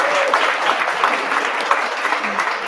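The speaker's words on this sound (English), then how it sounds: "Give yourselves a round of applause." An audience applauds at an AmeriCorps Baltimore Corps swearing-in ceremony, with close, steady, dense clapping that carries evenly through the whole stretch.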